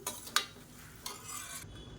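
A spoon stirs a sautéed tomato and coconut chutney mixture in a pan, giving a few soft scraping strokes with two sharper clinks of metal against the pan, quiet and close.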